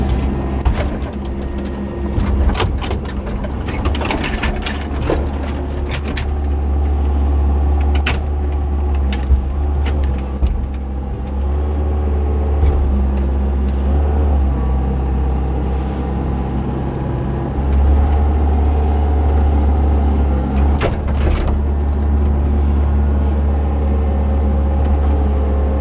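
A CAT bulldozer engine labours under heavy load while pulling the last tree from a gully, giving a loud, steady, deep rumble with slight surges and clanks throughout, close by and with no talk.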